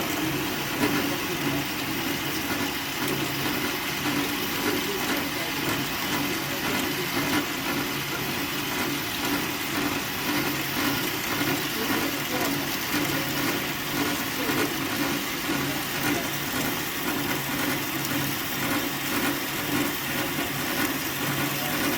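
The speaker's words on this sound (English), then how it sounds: "the first thing we gotta do for these Tic Tac Toe boards is cut stock, and we use this bandsaw" A bandsaw cuts wood stock for tic tac toe boards, producing a steady, even mechanical drone that holds constant throughout with no pauses or voices.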